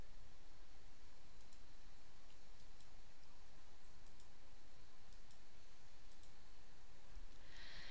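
A computer mouse clicks on a column header in an electronic medical records program, giving a faint, regular series of light paired clicks spaced about a second or so apart over a quiet background hiss, with no voices.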